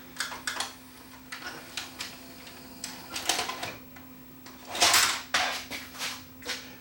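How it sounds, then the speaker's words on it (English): A Panasonic PV-9450 VHS VCR ejects a tape in a series of close mechanical clicks, whirs and clunks, with a steady low hum beneath and no talk. "So we'll just eject the tape here."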